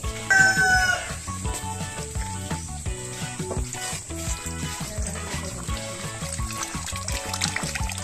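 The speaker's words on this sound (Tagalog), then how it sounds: "Meron kaming ground chicken, meron kaming native, meron mga isasabong." Roosters and native chickens crowing on a farm in Marinduque, Philippines, with repeated crows rising over a busy, steady bed of farmyard and ambient noise throughout.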